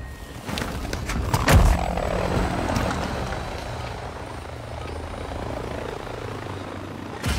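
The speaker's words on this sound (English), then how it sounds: "The helicopter was super loud and I couldn't hear anything" A helicopter flies loudly overhead, its rotor roar swelling to a peak early on and then holding as a steady, slightly fading drone with no voices.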